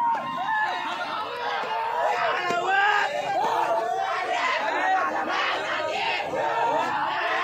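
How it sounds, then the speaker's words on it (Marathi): Party workers celebrate a Gram Panchayat election win in Solapur with a loud, continuous crowd roar of cheers, shouts and overlapping voices that stays dense and close throughout. "जल्लोष केला जातोय"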